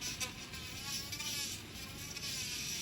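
A Melody Susie Atena nail drill handpiece runs on medium speed with a steady, quiet high whine that holds constant from start to finish, with no talking.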